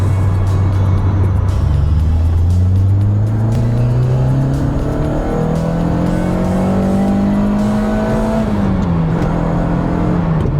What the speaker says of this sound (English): will this actually start? However, thanks to Tolman's modern engine management system, it does